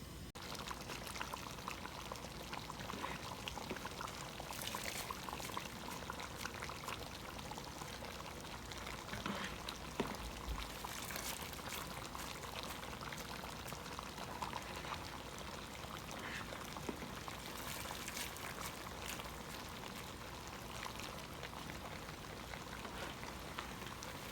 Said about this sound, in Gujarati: તો હવે આપણે એને ચોખા આપણા બિરયાની ઉપર નાખશું.